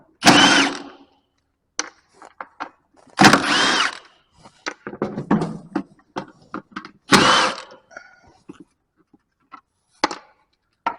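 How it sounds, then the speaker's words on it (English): A power driver whirs in short, close bursts, removing Phillips screws on a John Deere 2210 tractor during engine removal, separated by scattered clicks and clanks of tool and metal handling with no talking. "I bet you I'm gonna take them Phillips screws out too"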